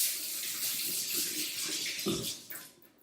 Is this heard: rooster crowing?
no